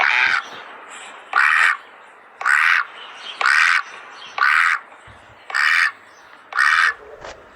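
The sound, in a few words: ducks quacking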